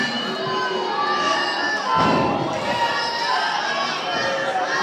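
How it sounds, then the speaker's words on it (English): A pro wrestling crowd roars and shouts throughout a match, a dense, loud wall of cheering and jeering voices that swells sharply around the middle. "I'll say the crowd not too happy with Noah's methods in this match."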